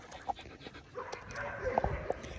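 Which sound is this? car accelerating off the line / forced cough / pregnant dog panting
pregnant dog panting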